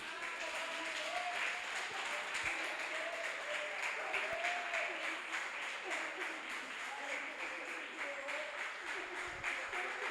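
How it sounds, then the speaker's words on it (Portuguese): Worshippers in a church break into sustained applause, a thick wash of clapping from a large crowd, with a voice speaking over it now and then. "pode aplaudir o Senhor?"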